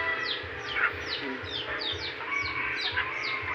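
A hen clucks in quick repeated bursts, fairly close, with other birds chirping and a low rumble beneath.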